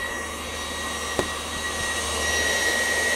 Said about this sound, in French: on laisse tourner le batteur, il n'y a pas de souci